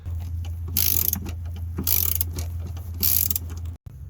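A ratchet snugs transmission mount bolts on a 2016 Dodge Charger, giving three close, loud bursts of rapid clicking over a low steady hum.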